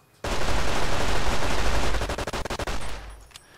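A modded gun fires in Fallout New Vegas: a loud, dense burst of automatic fire that breaks into rapid separate shots before cutting off, with no voice over it.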